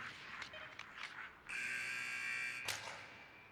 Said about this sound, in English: And with the buzzer, that puts a bow on the first 20 minutes of play.